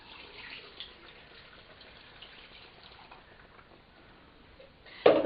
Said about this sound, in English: Then the vinegar's going in.